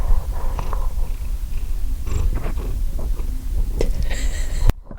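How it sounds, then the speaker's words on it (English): A cat named Obi purrs steadily and close to the microphone, a continuous low rumbling with faint rustles over it and no talk. "I think purring means he likes it"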